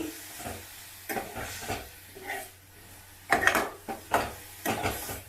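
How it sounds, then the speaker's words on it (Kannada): Tomatoes and salt are stirred in a pan for a Tamil Nadu style tomato chutney, giving soft sizzling under a run of uneven scrapes and clinks from a spoon on the pan. "ಉಪ್ಪು ಟೊಮೆಟೊ ಹಾಕ್ಕೊಂಡು ಚೆನ್ನಾಗಿ ಕಲಿಸ್ಬೇಕು"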